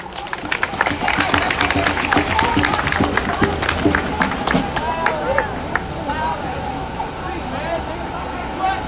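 Outdoor crowd of antifascist activists clapping at a Portland rally, dense hand claps and scattered cheers with chatter mixed in, loud at first and then thinning into crowd noise.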